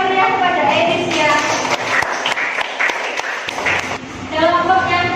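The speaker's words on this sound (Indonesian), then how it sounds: "Beri tepuk tangan yang meriah kepada Enis ya." A group applauds in a classroom for a student named Enis, a steady wash of clapping heard under ongoing speech, with children's voices mixed in.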